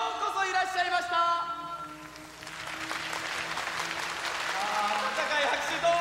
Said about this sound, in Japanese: 温かい拍手どうもありがとう